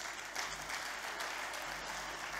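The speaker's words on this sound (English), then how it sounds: "Let's give man a round of applause." A crowd claps steadily, a sustained wash of applause at moderate distance with no talking over it.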